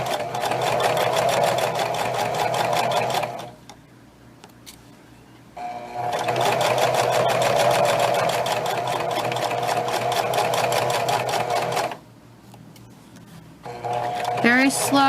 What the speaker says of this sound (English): Lower the presser foot, the needle is still down, and now I continue sewing.